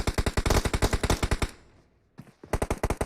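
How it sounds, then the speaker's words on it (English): Gunfire in the PUBG Mobile shooter game, played in first-person mode: rapid, loud automatic bursts, a short lull, then another fast burst of shots. "Oof, lots of gunshots there."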